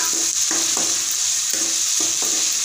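Carrots and beans frying in a pan with ginger and garlic are stirred with a spatula, giving a steady loud sizzle broken by repeated scraping strokes at an uneven rhythm, close up and with no talking.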